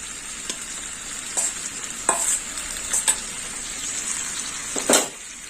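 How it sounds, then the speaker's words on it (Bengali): Fried prawns being stir-fried in a poppy seed paste for a prawn and pointed gourd dish, a steady close sizzle with several sharp spatula scrapes and knocks against the pan, no voices. "চিংড়ি মাছটা দেওয়ার পরে আর একটু কষে নেবো।"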